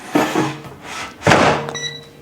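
Gourmia air fryer from Walmart, its metal-fronted basket slid into place with a couple of soft sliding thunks and a firm latching click, close up in a quiet kitchen, with a faint electronic beep tone after.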